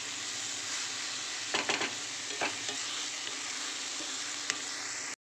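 Cabbage and hilsa fish head stir-fried dry in a pan without water, a steady close sizzle with a few scraping stirs of the spatula, and no talking.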